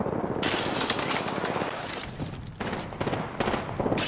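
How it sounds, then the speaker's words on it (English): Gunfire in the video game Apex Legends, dense bursts of rapid shots and sharp cracks packed close together with brief gaps, loud and near, without talking. "Opening fire."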